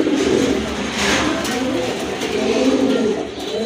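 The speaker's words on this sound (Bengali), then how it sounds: "এই নটটা কিন্তু আপনার অলওয়েজই ডাকে, খুবই সুন্দর ডাকে।" A gola pigeon cooing close by in a pigeon-selling setting, with soft, repeated low coos rolling on continuously and no talking.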